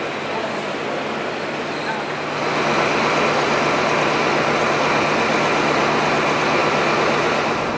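NSW TrainLink XPT train standing at a station, a steady loud rumble of idling engine and broadband noise that swells after a couple of seconds and holds constant, with no speech.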